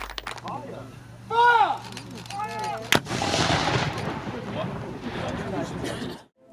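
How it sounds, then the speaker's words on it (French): A cannon booms once at the close of a historical reenactment weekend, a sharp loud blast followed by a long rumbling decay and crowd noise, with voices and bird-like chirps earlier in the scene. "au son du canon"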